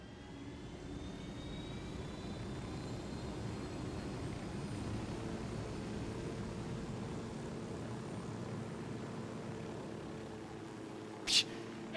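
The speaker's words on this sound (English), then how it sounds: "Let's get in the helicopter now" A helicopter flies in the video game Ghost Recon: Wildlands, a steady droning engine whine and rotor hum holding evenly throughout, with a brief sharp click near the end.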